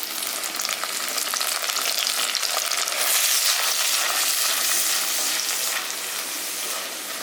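Tomato gravy fries in a pan for a Kerala-style mackerel fish curry, giving a loud, continuous close-up sizzle that swells slightly midway, with no one talking.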